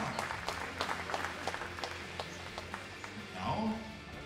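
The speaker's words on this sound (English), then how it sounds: "Applause! The winner!" Audience applause for the winner of a women's 50 m rifle three-positions final, a dense patter of many hands at moderate distance, with a voice talking over part of it and a swell near the end.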